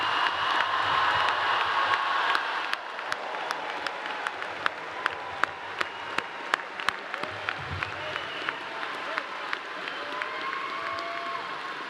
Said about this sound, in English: How about another really loud round of applause for all of our newest graduates?